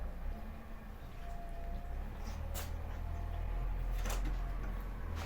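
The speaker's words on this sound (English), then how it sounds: "The noise you can hear is they're digging up, they're preparing a house" Construction digging for a house foundation nearby carries on as a steady low rumble of machinery, with a few brief clanks and scrapes rising above it. No one speaks.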